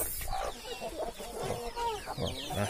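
Chickens cluck and peep near newly hatched chicks in a fresh brood, with steady overlapping calls close by throughout.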